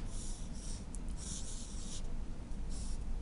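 A logic gate symbol being drawn on a board, with steady scratchy pen or chalk strokes that come in several short bursts, close and fairly loud, with no talking.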